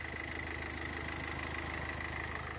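A car engine idling steadily as a makeshift DIY generator, running for hours with an electric fan cooling it, a constant close mechanical hum and whir with no talk.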